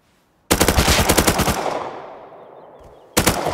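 A rapid burst of automatic gunfire in the survival video game Rust, about a second of close, loud shots that echo and fade, then a second burst starts.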